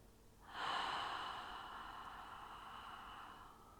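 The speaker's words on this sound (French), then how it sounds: "Prenez une grande inspiration par le nez, une grande expiration par la bouche." One deep breath in through the nose, then out through the mouth during a yoga session for stress, heard as a single close, airy inhalation that fades into a long soft exhale.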